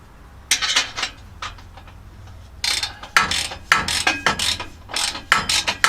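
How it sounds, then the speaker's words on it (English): A hand wrench ratchets on exhaust bolts during an MBRP dump exhaust install, with bursts of quick metallic clicking separated by pauses, close and clear. "Wrench."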